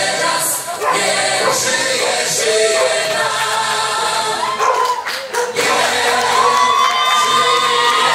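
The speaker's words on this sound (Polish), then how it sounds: "Wielkie brawa" Audience at a dog grooming show awards ceremony cheering and clapping for the Polish Groomer of the Year winner, a steady crowd roar with whoops and shouts throughout, a dog barking faintly in the mix.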